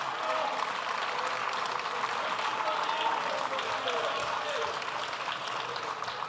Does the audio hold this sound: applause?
yes